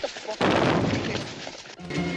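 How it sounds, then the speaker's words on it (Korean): Firecrackers thrown into a street in a 1970s New York crime film scene burst into a loud, dense run of crackling bangs lasting over a second, then break off abruptly. "도무지 예측할 수 없는 사고뭉치 잔이는 거리에 폭죽을 던지고"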